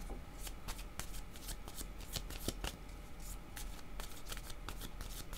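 Tarot cards shuffled by hand in a quiet room, a steady run of crisp riffling flutters and snaps, close and fairly faint, with no talk.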